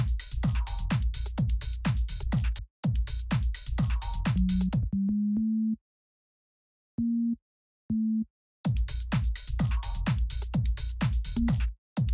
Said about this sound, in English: let's do another FM synth